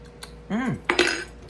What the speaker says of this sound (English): let's stir this up. Get it all stirred in there.